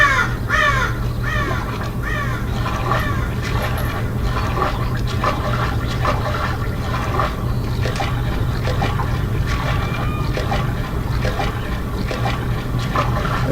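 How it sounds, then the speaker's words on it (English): Crows cawing repeatedly in Conker's Bad Fur Day, harsh calls over a constant watery, rushing background hum. "Feck off crows."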